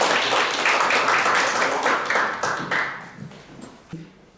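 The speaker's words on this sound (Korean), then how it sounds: "큰 박수로 박 대표님을 환영해 주시기 바라겠습니다." An audience at a Korean executive lecture course claps to welcome a lecturer, starting full and busy, then thinning into scattered claps as it fades out.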